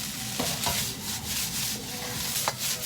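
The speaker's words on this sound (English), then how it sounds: "be stirring. Make sure you're consistently flipping." Stir-fry vegetables sizzle in a hot pan under a constant frying hiss, with intermittent scraping and tossing as they are stirred and flipped, close and fairly quiet.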